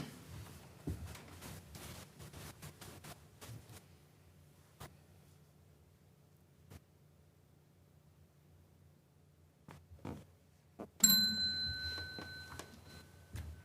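A single bell strikes sharply near the end of a quiet council chamber with a lingering ringing tone, after scattered soft clicks and faint room noise.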